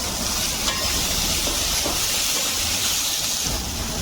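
Two medium-sized cut tomatoes sauté in a pan with garlic, giving a loud, unbroken hiss and sizzle that stays steady throughout.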